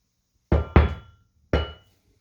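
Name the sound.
metal engine stand part scraping across the floor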